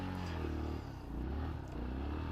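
Yamaha XT dirt bike climbing a sandy trail uphill in first gear, its engine a steady, close, loud drone with slight pitch wavering across a couple of seconds.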